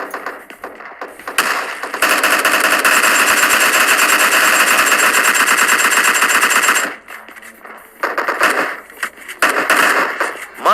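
Rapid automatic gunfire in a battle royale video game, a long loud sustained burst of shots followed by shorter bursts after a brief pause, with no voice over it.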